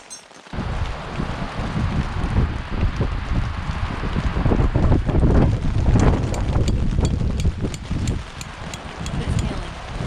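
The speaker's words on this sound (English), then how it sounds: "it's getting pretty windy. It's hailing." Windy storm with hail pelting a camping tent during motorcycle camping, a loud continuous rush of wind and rattling fabric with rapid sharp ticks of hail building toward the end.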